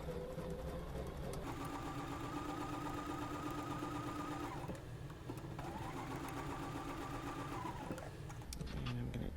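A sewing machine chain-pieces quilt fabric with a scant quarter-inch seam. Two long runs of rapid, steady stitching are heard close by, separated by a short pause.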